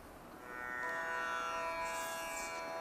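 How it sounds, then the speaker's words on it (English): Tanpura drone from the Tanpura Droid app tuned to E hums steadily and softly with no talking, a continuous shimmering tone that swells slightly as it settles. "So this is the sound of tanpura."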